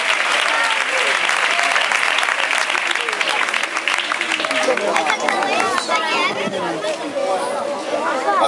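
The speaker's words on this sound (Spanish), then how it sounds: "Dale un aplauso al Señor." A church congregation applauds loudly and continuously, with some voices and chatter mixed into the clapping as it goes on.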